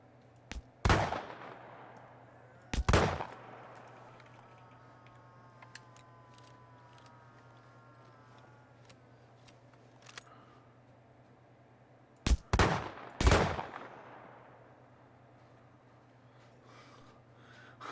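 Gunfire in the World War II shooter ARMA 3: Spearhead 1944, heard as four sharp, loud reports in two pairs separated by a long quiet stretch with a low steady hum beneath.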